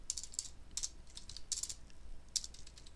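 Quick bursts of computer keyboard typing, about four short clusters of crisp key clicks at close range, while entering and running Python code.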